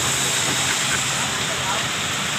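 Rain falls at a roadside food stall as a dense, even hiss that fills the whole short stretch, with a faint voice in the background.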